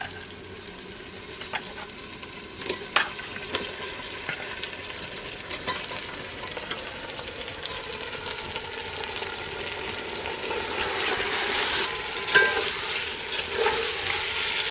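A kilo of chicken frying in a pot with well-cooked masala for a traditional chicken pulao crackles and sizzles steadily, with scraping stirs and clinks throughout, growing slightly louder toward the end, no voices.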